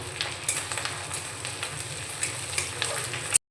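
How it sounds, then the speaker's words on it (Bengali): Onion paste and three slit green chilies fry in a pan and are stirred for a prawn curry with yogurt. A soft, steady sizzle carries light scraping, with faint background music, and the sound cuts off abruptly at the end. "দেড় চামচ মতো দিলাম পেঁয়াজ বাটা পেঁয়াজটা নাড়াচাড়া করে নিয়ে দিয়ে দিচ্ছি তিনটা চেরা কাঁচা লঙ্কা"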